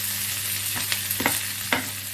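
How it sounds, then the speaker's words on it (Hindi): Boiled, peeled potatoes and onions sauté on high flame for dosa stuffing, a close, steady frying hiss broken by three or four quick scraping strokes of a spoon or spatula through the pan. "हम हाई फ्लेम में सौते कर रहे हैं। इसको मैं मिक्स कर रही हूँ ऑनियंस के साथ पोटैटोज को।"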